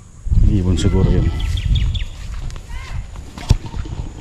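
A bird calls outdoors at a farm field hut at night, faint chirping notes over loud low rumbling noise and a brief knock.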